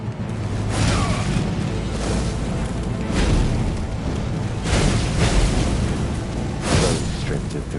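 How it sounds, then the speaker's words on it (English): Deep booming explosions erupt in a fight in Elden Ring, several heavy bursts rolling out one after another over constant low rumble, with a voice talking underneath. "First explosion, dodged."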